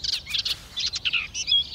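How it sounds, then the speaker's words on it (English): Cartoon birds chirp and sing in spring, a quick run of bright, high tweets and trills in short bursts, close and lively, with no talking. "Sing now, birdie, sing this song."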